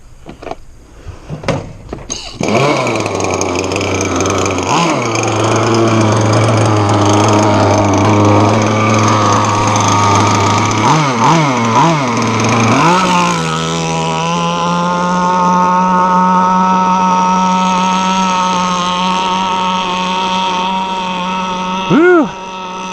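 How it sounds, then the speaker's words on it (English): A ZippKits G48 gas outboard engine on a model tunnel hull boat sputters to life, then holds a loud, buzzing drone that steadies into a higher, even pitch, with a few dips in revs along the way. "Some tuning to do on that engine."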